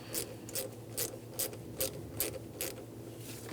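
Ratchet tightening hose clamps on a Honda Element intake, about nine crisp, evenly spaced clicking strokes, close and alone in a quiet space.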